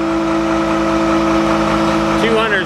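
A 2015 Volvo VHD truck with a D13 engine and a Dom's Ultra 18 Stone Slinger body idles steadily at close range, a low constant rumble with a faint whine.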